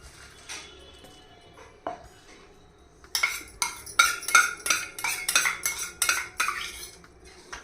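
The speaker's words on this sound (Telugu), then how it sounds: "పచ్చిమిర్చి నువ్వులు ధనియాలు ఇవన్నీ వేగించుకున్నాం కదా ఫస్ట్ ఇవి దంచేసుకోవాలి" Green chillies, sesame seeds and coriander seeds pounded in a small stone mortar, a run of sharp clacking strikes starting after a quiet opening, close and fairly loud in a steady rhythm.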